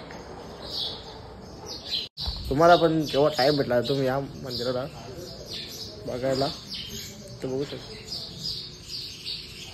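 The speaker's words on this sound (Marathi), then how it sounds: "आणि चिमण्यांचा किलबिलाट तर खूप आहे." Sparrows chirp in a busy, high twittering flock around a temple courtyard in Bhiwandi, steady under someone talking.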